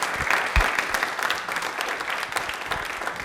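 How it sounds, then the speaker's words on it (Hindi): Studio audience applauding a quiz programme team on a regional TV show, continuous mid-level clapping with a few sharper claps standing out, no voices over it. "एक बार ताली बजा दीजिए प्रश्नोत्तरी पूरे प्रोग्राम के लिए, टीम के लिए।"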